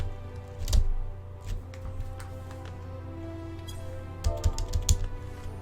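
Computer keyboard keys clatter in a few quick bursts, loud and close, with short pauses between clusters of taps.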